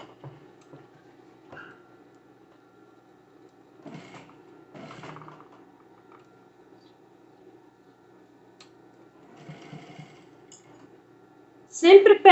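A sewing machine stitching a fru fru rug with a small cactus design, running as a faint, steady whir with brief bursts of stitching, mostly under quiet talk.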